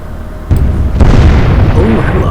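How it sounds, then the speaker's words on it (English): Secondary explosions aboard warships in the naval combat game Atlantic Fleet: two sharp booms about half a second apart, followed by a heavy, rumbling roar that sustains loudly. "Secondary explosions."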